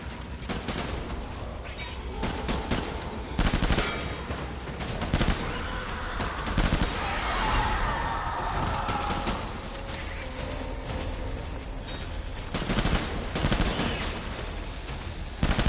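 Bursts of gunfire in the video game Death Stranding crack out repeatedly in loud, sharp volleys at irregular intervals, over a steady background of game noise.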